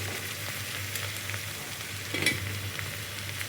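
Okra and onions frying in oil in a pan for a tamarind curry, a steady soft sizzle with a faint stir or scrape partway through, quiet and close.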